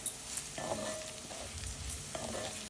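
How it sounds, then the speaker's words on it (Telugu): Mutton and onions sizzling in a pan for an Andhra-style mutton fry, with a spoon scraping and stirring in short strokes over a constant frying hiss, close and moderately loud, no talk. "ఇదంతా చక్కగా కలిసేటట్టు ఇప్పుడు కలుపుకుంటాం"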